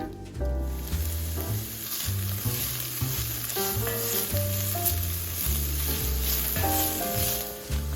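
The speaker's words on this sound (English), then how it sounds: "I did add a little bit of olive oil to the pan to help the meat cook without sticking to the pan" Onion, bay leaf and ground beef sautéing in olive oil, giving a steady close sizzle and hiss that runs throughout beneath background music.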